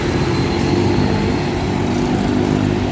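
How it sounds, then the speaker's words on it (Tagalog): An LRT Line 1 train on the Cavite extension passes through Mia Station, a loud, steady rumbling drone that holds evenly for the whole stretch, with no voices. "may napansin na naman tayong train na dumaan dito sa Mia Station"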